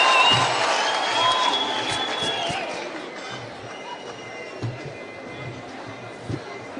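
Crowd at a Kenya Kwanza political rally in Murang'a applauding and cheering for Ruto, a broad roar of clapping that fades gradually, with some voices mixed in.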